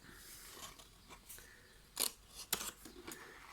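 Scissors snipping paper strips for a scrapbooking box, a few sharp close crunchy cuts spaced irregularly, quiet overall with no talk.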